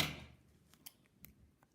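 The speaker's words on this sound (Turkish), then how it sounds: "Sıkıştırıp kesiyorum." Scissors snip crochet yarn up close in a few faint, short cuts spread over a quiet moment.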